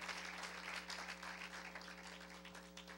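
A church congregation breaks into applause, a quiet, steady wash of clapping with a low sustained hum beneath it and no voices over it.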